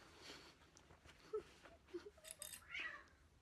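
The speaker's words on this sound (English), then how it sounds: "Cat fight going on out here." Cats fighting outdoors, with strained yowls and short cries rising and falling in uneven bursts, moderately faint and somewhat distant, with no one talking over them.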